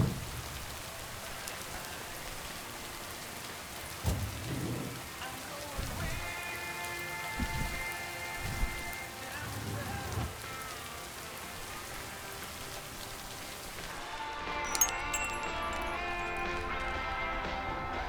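Heavy rain patters steadily in the Lake video game, with occasional low thumps and rumbles and soft tonal game sounds layered over it.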